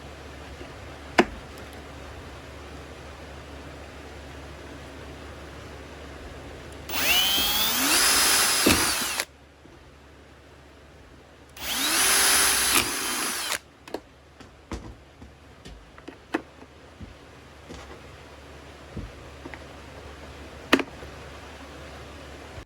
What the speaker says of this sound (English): I drilled 4 holes right here that these little nozzles will store in.